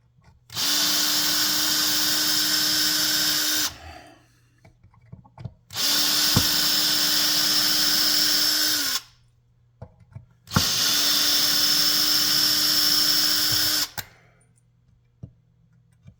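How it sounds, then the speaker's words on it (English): A power drill whirs in three steady bursts of about three seconds each, loud and close, with short quiet gaps between them, as screws come out of the bridge of a Fender Stratocaster during guitar disassembly. "I might use a power drill for that actually"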